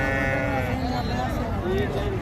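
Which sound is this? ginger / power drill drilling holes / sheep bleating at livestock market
sheep bleating at livestock market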